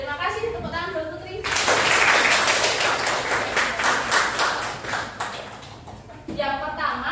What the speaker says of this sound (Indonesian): Tepuk tangan buat Putri